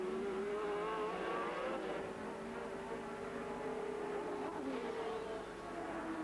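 Racing cars drive through a Birmingham street circuit around a traffic island, engines droning steadily at a distance with shifting pitch as they pass, fairly faint throughout.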